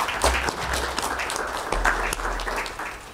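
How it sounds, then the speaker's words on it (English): An audience at a county commission meeting applauds in a dense, even burst of clapping that tapers off slightly toward the end, heard from within the room. "So let's give him a round of applause."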